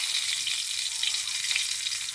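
Mackerel fries in hot oil in a pan, giving a steady, close, dense sizzle and crackle that runs without pause and with no talk.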